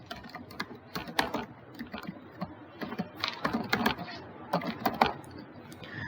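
Rapid clattering keystrokes on a computer keyboard while entering user details, close and fairly loud, in uneven bursts with short pauses.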